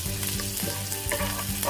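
Chopped onion sizzles and fries with garlic in a hot pan, a steady close crackle broken by brief stirring scrapes.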